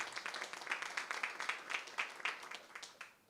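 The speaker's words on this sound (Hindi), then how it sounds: "जोरदार तालियों।" Faint, scattered applause at a Father's Day celebration event, with individual claps audible in a loose, uneven rhythm before it tapers off.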